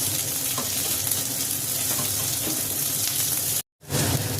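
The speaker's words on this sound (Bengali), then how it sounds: "সমস্ত সবজিগুলো ভাজা হয়ে গেছে" Chili, carrot and beans fry in a pan for chow mein, giving a continuous loud sizzling hiss that runs without a break until a sudden brief cut near the end, with no talking.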